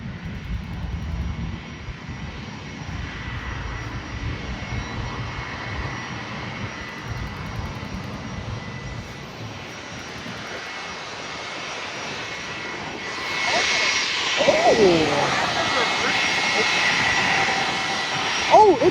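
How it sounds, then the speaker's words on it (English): United Boeing 737 MAX 9 jet landing at San Juan airport, a steady distant engine roar that swells louder toward the end, with people talking nearby over it. "let's shift back to the south side to see the United Max 9 landing"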